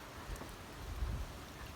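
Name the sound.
rain falling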